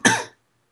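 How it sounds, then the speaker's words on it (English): A single short, sharp cough sounds up close and dies away within a third of a second, followed by silence. "Oh my god, this cough."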